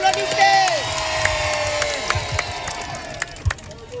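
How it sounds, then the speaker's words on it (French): A campaign rally crowd in Guinea cheers and applauds, with whoops, shouts and scattered claps rising under an amplified voice speaking over the noise. "Applaudissez"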